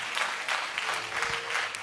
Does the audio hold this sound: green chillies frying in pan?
no